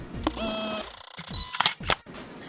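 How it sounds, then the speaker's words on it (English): A few sharp mechanical clicks and clunks as an Audio-Technica lavalier microphone is plugged into a smartphone, close and fairly loud, with a brief scraping rattle between them and no voices. "now I'm going to plug in the microphone so you can hear the difference"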